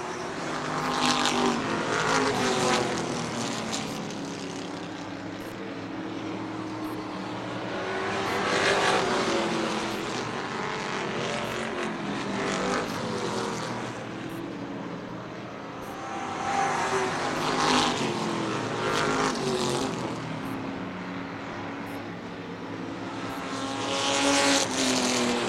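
Race cars in a Wicked Good Outlaw feature race roar loudly and continuously, with engine noise surging and fading in waves as the pack passes again and again.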